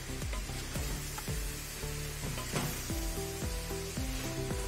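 Cabbage and peas sizzle in a hot pan while being stirred together, a steady frying hiss under melodic background music across the short stretch.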